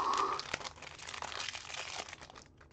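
A foil Pokémon trading card booster pack is torn open and crinkled up close, with sharp crackling rips at the start that taper into lighter rustling.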